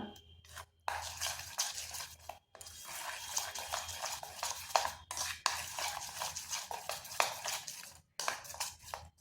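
Semolina batter whisked in a bowl, a rapid continuous scraping and clinking at close range, stopping briefly a few times before resuming.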